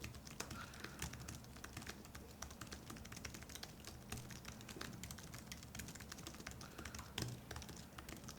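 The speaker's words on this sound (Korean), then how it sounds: "애플 매직 키보드" Steady close typing on an Apple Magic Keyboard, a run of quick, light, low-profile key taps with no voices.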